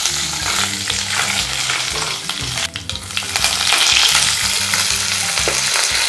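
Mustard seeds, cumin and dried red chillies tempering in hot oil for an onion tomato chutney, a loud, dense, crackling sizzle with steady stirring and scraping throughout.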